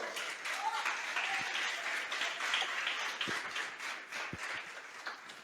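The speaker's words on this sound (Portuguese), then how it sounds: "Você pode aplaudir o Senhor?" A church congregation at a Portuguese-language service applauding together, sustained dense clapping from a crowd at moderate distance, fairly even in level throughout.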